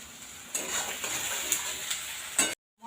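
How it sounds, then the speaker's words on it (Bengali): Onion, garlic, tomato, yogurt, ginger paste, turmeric and chili powder sautéing in oil for papaya chicken, with a steady close sizzle, stirring scrapes and a few sharp clinks of utensil on pan before it cuts off. "ভালো করে কষে নিই"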